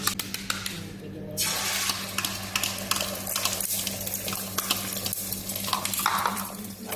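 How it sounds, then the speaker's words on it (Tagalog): An egg fries in a hot pan, giving a steady crackling sizzle with scattered spatters and a few utensil clicks, while a person talks quietly nearby. "Prito tayo ng itlog."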